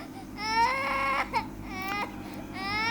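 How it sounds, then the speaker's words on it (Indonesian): A child cries in pain in bursts of harmonic wailing with short gaps, set as an eerie horror-story sound effect over a steady low hum and no talk. "Suaranya sangat berbeda dan suara tangisan anak itu"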